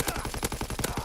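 Rapid automatic assault rifle fire from Call of Duty WW2, World War II-era gameplay, a dense string of close, loud shots in a steady rhythm with no pauses.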